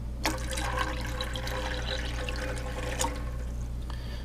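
Water is poured from a tap into a small pan of tiger nuts in a kitchen, a steady close splashing flow with a few brief knocks and no talking.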